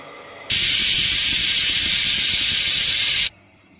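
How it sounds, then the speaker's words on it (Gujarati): The fourth whistle of a pressure cooker making khichdi bursts out as a loud, steady hiss of escaping steam, holds for about three seconds and stops sharply, with quieter kitchen background before and after. "અને આ છેલ્લી ચોથી સીટી."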